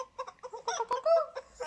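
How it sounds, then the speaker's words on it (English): A chicken clucking close by in a run of short, choppy clucks and a drawn-out squawk, loud and clear with no talk over it. "that's chicken."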